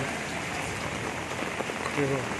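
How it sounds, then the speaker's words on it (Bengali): Rain falls during a Kalbaishakhi storm in 2024, a dense, even patter on wet surfaces and a waterlogged road, with a brief voice near the end. "কীভাবে বৃষ্টি হয়েছে দেখুন, জল অনেক জমে গেছে রাস্তার উপরে"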